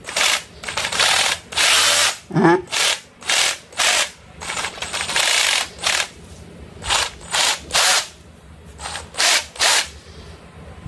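A Lidl Parkside PBHA 12 A1 cordless hammer drill runs in hammer mode in repeated short bursts, a loud rapid rattling hammer action starting and stopping about a dozen times, close by, with a brief voice between bursts.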